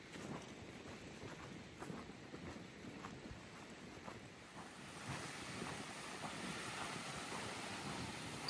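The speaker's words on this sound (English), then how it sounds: "See the waves." Small waves lap along the shore of Lewisville Lake with steady wind buffeting the microphone, a continuous outdoor wash that swells slightly louder in the second half.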